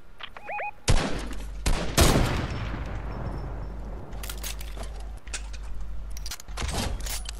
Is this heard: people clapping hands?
no